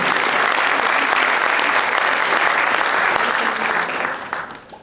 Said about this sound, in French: Je vous demande d'applaudir Madame Véronique Négré, maire de Villeneuve-de-Marigny